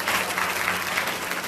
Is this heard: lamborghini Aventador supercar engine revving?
no